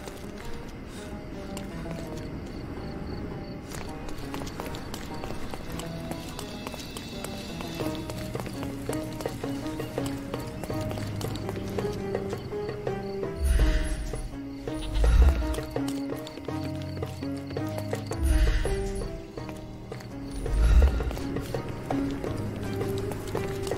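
Horse hooves thud in several heavy clusters in the Sherlock Holmes Chapter One video game, over a continuous musical and ambient background. No clear neigh stands out.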